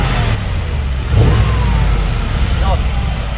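A 2021 Mercedes-AMG G63 engine and exhaust idle close up with a low rumble, swelling briefly into a short rev, while someone talks over it.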